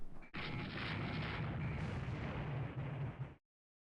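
Naval guns firing in the warship game Rule the Waves 3 produce a dense, sustained booming rumble lasting about three seconds after a brief initial burst, then stopping abruptly into silence.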